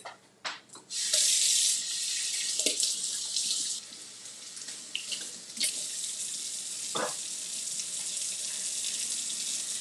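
Tap water runs in a kitchen sink as bell peppers are rinsed, a loud steady rushing stream with brief splashes and handling knocks, with no speech.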